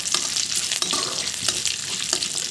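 Lentils and curry leaves fry in hot oil for a tempering, giving a steady, dense sizzle with faint stirring, close and continuous throughout.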